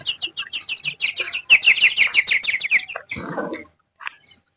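A male quail kept on a farm calls in a rapid run of sharp, high chirping notes close by, ending in a rougher scratchy burst before falling quiet.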